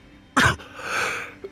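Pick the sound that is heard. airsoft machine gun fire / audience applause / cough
cough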